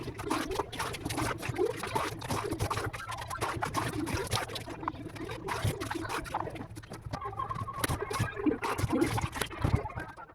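Water is poured while washing a soaped kitchen, trickling and splashing steadily for several seconds amid light clattering, close by, with no voices.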